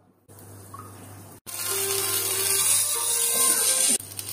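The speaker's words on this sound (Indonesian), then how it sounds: "Lepas tu kita masukkan sedikit air." Tap water pours steadily for about two and a half seconds while chicken dumplings cook, a near, continuous gushing splash that stops abruptly, with a short burst of it just before.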